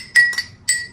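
A spoon clinks against a glass bowl while a keto bacon cheesy meatloaf is being made, three quick bright taps close up, two in fast succession and a third after a short gap.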